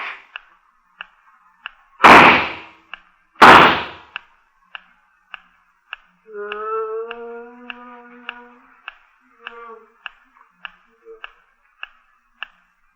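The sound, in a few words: gunshots in a radio drama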